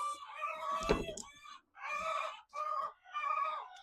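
Chickens in a cage-free farm coop clucking and cackling in several loud, close bursts with brief pauses between them, one call rising toward a crow, with no one speaking.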